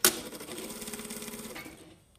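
A sewing machine runs a row of topstitching on a shirt yoke, starting with a sharp click and then whirring steadily up close for under two seconds before stopping.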